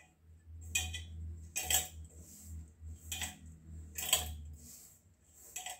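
Grated boiled potatoes are mixed with garam masala and coriander leaves in a bowl, a spoon clinking and scraping against the bowl in about five rhythmic strokes, close and fairly quiet with no talking.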